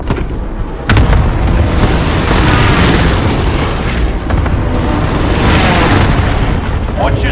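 Cluster airstrike explosions in a Call of Duty match roar as a continuous, loud wall of booming blasts, with a sharp hit near the start and layered rumbling detonations throughout, while game voice callouts are heard underneath.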